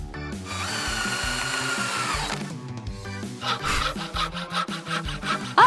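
A power drill drives screws into a toy train frame, giving a loud whirring run that stops after about two seconds. Then come a rhythmic grinding buzz and scraping, close up with no talking.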